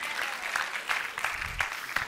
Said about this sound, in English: Now that was a nice clap, but that was a PGA clap